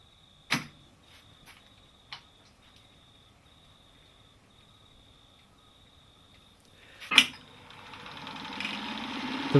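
A Byer 77mk1 tape recorder clicks sharply as its relays switch, then begins fast spooling with a rising whir that swells toward the end, close and fairly loud.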